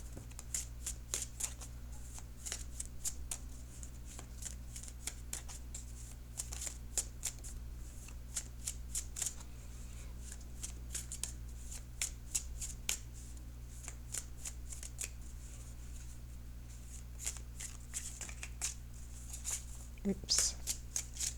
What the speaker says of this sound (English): So now I'm going to shuffle for your outcome card.